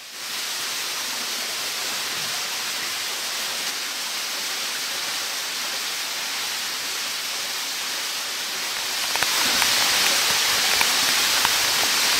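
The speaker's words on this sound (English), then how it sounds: "the water from Cascade Avon makes a noisy arrival" Water pours steadily into a cave passage at the Cascade Avon inlet, a loud, continuous broadband rush with no letup that swells a little louder near the end, with no voices.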